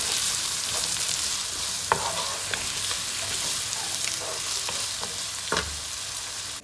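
Chopped onions fry in hot oil with a steady, close hiss of sizzling, broken by a few sharp clicks as the pan is stirred.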